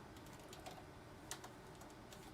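Light tapping on a computer keyboard, scattered soft clicks with one sharper keystroke, faint and quiet over a steady hiss of room noise.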